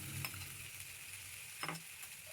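Green peas with chopped tomato and slit green chillies are stirred in a pan: a faint, steady sizzle with a couple of soft scraping strokes of the spatula, quiet and alone.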